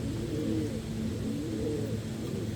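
Low, rounded pigeon coos repeat steadily in a soft rhythm against a constant background hum, close to the microphone, with no talking.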